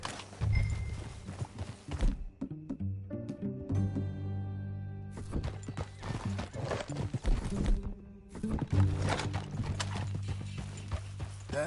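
Horse hooves clip-clopping in a steady riding rhythm in the video game Red Dead Redemption 2, close and fairly loud, with brief pauses, a snort or whinny, and some game background sound.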